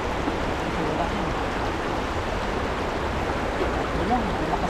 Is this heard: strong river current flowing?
yes